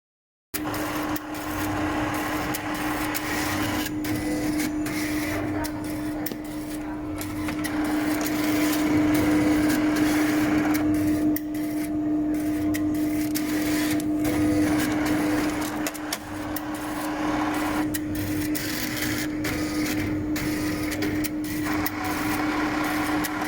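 A Cobas e411 laboratory analyzer scans its reagents one by one, giving a steady mechanical hum with a constant tone and faint shifting whirs that swell in the middle and settle again, with no voices.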